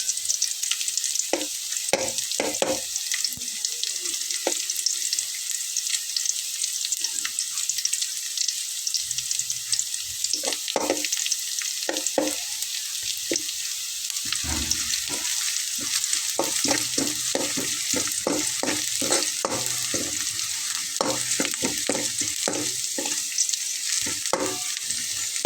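Two dried red chillies frying in hot oil for vegetarian masoor dal with potato, a steady close sizzle with scattered crackles and spitting pops and occasional stirring scrapes, no voices.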